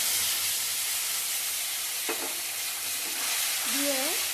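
Ginger, green chili and cashew paste frying with eggplant in oil, a steady close sizzle with faint stirring scrapes and a brief clink midway.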